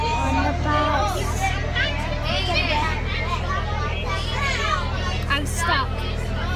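Children chatter and shout together on a school bus, a dense, loud babble of young voices over a low engine rumble that runs steadily throughout.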